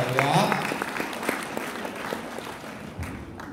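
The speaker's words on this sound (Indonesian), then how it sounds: "Tepuk tangan lagi dong buat Indonesia ya" An audience at a presentation claps in scattered, moderate applause that starts fuller and thins out, with talk over it in a reverberant room.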